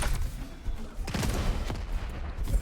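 Rapid plasma and rocket fire crackle in an arena shooter duel match, dense bursts of shots and explosive booms packed close together with no pauses.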